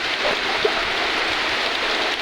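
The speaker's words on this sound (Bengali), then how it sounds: "কি পরিমাণ বৃষ্টি।" Heavy rain pours during a Kalbaishakhi storm in Barishal, a dense, even roar of falling water filling the whole moment with no talk.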